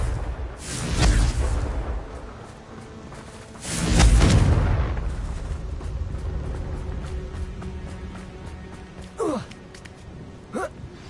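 Explosions from the Confringo fire spell in the video game Hogwarts Legacy, two heavy booming blasts about three seconds apart, each fading into rumbling debris, followed by two short gasps or grunts near the end.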